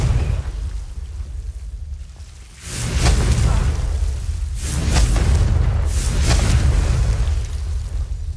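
Confringo explosive spell in a Hogwarts video game, heavy booming blasts rolling out in successive waves, loud and close, with whooshing debris tails between bursts.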